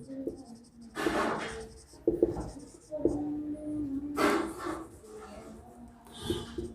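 Marker or chalk strokes on a board during a Class 9 physics lecture on motion, several short scratchy bursts between stretches of a teacher's voice talking nearby.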